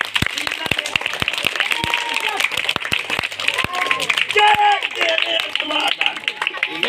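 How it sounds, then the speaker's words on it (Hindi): Crowd at a street monkey show clapping in scattered sharp claps, with a man calling out over the applause and a busy outdoor babble behind. "ताली बजाओ बेटा जोर से"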